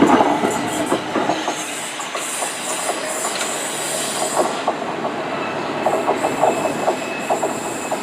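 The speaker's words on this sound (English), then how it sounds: "The train that's approaching is the 12:15 South West train service to Hampton Court." A South West train on the 12:15 service to Hampton Court draws into Clapham Junction with a steady rolling rumble, rhythmic clickety-clack from the wheels over rail joints and brief metallic squeals, close and continuous throughout.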